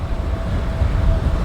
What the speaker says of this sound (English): Oh, that's going to be a short train.